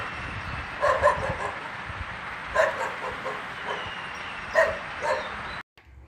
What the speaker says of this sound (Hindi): कुत्ता पूंछ हिलाता हुआ जोर जोर से भौंकने लगा